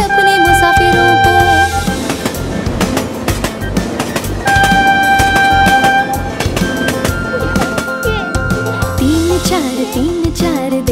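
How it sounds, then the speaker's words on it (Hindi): A children's rhyme plays, with a train running along tracks carrying passengers, heard as a loud, rhythmic musical passage with sustained tones and a clattering beat. "एक दो रेलगाड़ी देखो, पटरियों पे चल रही है लेकर अपने मुसाफिरों को।"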